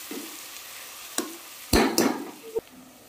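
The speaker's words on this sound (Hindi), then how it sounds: "इसको भी प्याज के साथ थोड़ी देर तक गला लेना है और भून लेना है।" Onions and chicken frying together in a pan, a soft sizzle under a few sharp spoon scrapes and clinks against the metal, with one brief louder burst of stirring.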